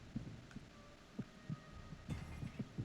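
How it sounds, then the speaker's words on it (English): Slow, steady heartbeat thumps picked up through a directional microphone in the stealth game Metal Gear Solid 2: Substance, a dozen or so soft low pulses over a faint hum, no voices. "You have to listen to the heartbeat, and you're looking for a actual beeping sound"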